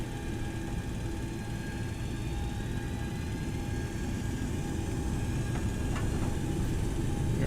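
Boeing 727 engines spooling at takeoff power in X-Plane 11, a steady loud jet roar with a rising whine and tonal hum holding on throughout, no voices.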